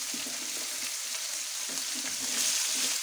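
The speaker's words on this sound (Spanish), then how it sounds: "ahora añadimos la cebolla. Dos cebollas hermosas cortadas en juliana." Two julienned onions sizzle steadily in a pan with garlic, frying close and continuous with a soft crackle under light stirring, for a Zamora-style salt cod with onions.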